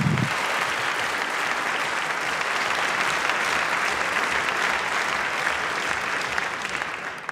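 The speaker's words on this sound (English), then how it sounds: "It's helpful when you clap, that gives me a chance to hydrate." Sustained applause from a packed legislative chamber during a governor's State of the State address, a broad, even wash of clapping that holds steady for several seconds before tapering slightly at the end.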